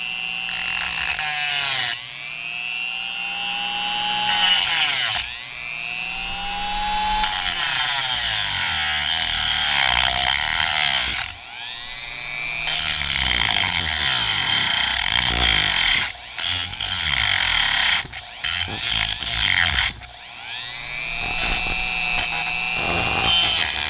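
A WEN rotary tool on its lowest speed driving into a screw gives a loud, high whine, repeatedly spinning up, bogging down and stopping in bursts over about twenty seconds, close and alone with no talking.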